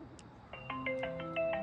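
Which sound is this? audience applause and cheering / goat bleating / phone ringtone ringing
phone ringtone ringing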